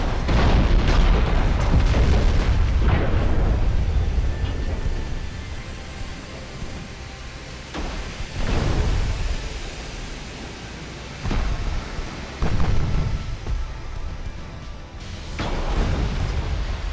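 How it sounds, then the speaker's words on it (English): Torpedoes detonate in the Ultimate Admiral: Dreadnoughts naval game as heavy, rumbling booms. About six of them roll in at irregular intervals, each trailing off into a low, noisy rumble. "Another torpedo detonation."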